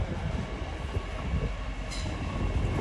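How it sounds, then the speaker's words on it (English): A big LNER Azuma train passes close by on a London railway line, a steady broad rumble of wheels and rail noise holding evenly for a few seconds, with no voices. "Another train is coming from my right side now."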